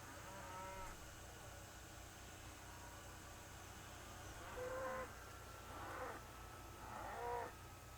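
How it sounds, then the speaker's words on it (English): Several cattle being moved from a feed bunk during pen handling moo from a distance, three or four drawn-out calls spaced a second or so apart over a steady low background hum. "the handler will start moving the cows from the feed bunk"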